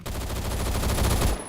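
An automatic gun fires in the video game Phantom Forces: one loud, rapid burst of closely spaced shots lasting about a second and a half, then cutting off.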